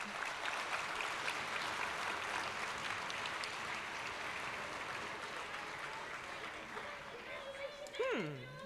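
An audience at an awards ceremony applauds in a steady, sustained wash of clapping that fills the room and tapers slightly at the end, where a short warbling electronic sound cuts in.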